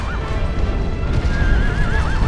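In the video game Shadow of the Colossus, a horse gives a loud, close neigh with rising whinnying calls. Hoof clip-clops and game noise play underneath.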